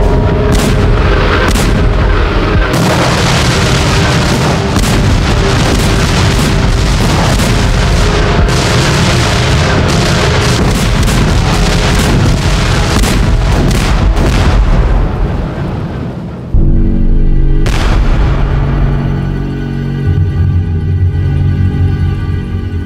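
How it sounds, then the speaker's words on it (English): Dense artillery bombardment of the kind Prussian guns fired at Paris, with loud continuous booms and blasts overlapping into a thick roar. It eases briefly near the end, then a deeper rumble of explosions carries on. "Over 4 months, Prussian artillery bombarded Paris."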